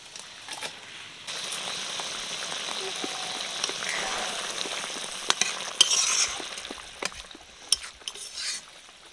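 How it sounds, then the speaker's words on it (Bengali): Fried fesa fish pieces go into a simmering curry, bringing a rising soft hiss and bubbling sizzle with scattered clicks and taps of a spoon against the pot, close and with no talk. "এবার ভেজে রাখা ফেসা মাছগুলো দিয়ে দিচ্ছি।"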